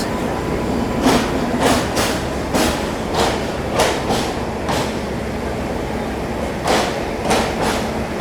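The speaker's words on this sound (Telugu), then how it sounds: "వ్యాప్ 7 లోకోమోటివ్తో ఎంట్రీ ఇచ్చేస్తుంది విశాఖపట్నం జంక్షన్లోకి." An express train hauled by a WAP 7 electric locomotive rolls into Visakhapatnam Junction, giving a steady rumble with rhythmic wheel clacks over rail joints. It is loud and sustained, with no talk.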